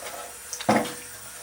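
A kitchen tap is turned on briefly while water is readied for rolling vegan cinnamon bun dough, giving a sudden short gush after a couple of small clicks, then fading.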